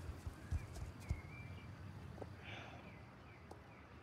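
Horse hooves clip-clop faintly in the Star Stable video game, with a few soft hoof thuds over steady ambient background and a brief faint whinny-like tone.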